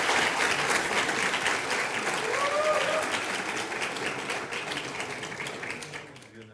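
Applause and cheering fill the room after the National Assembly speaker election result, a dense, steady wash of clapping from a large crowd that holds strong, then gradually thins and fades toward the end.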